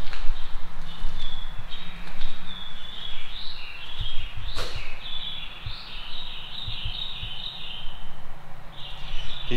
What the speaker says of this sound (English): The birds are chirping louder than ever.